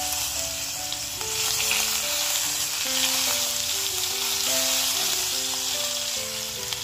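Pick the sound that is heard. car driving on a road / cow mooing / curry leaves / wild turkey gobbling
curry leaves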